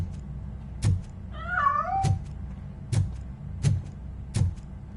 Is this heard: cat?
yes